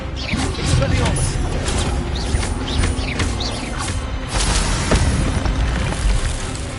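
Incendio fire spell blasts in the video game Hogwarts Legacy, dense rumbling booms and bursts of flame layered over constant battle noise, with a voice talking over the action.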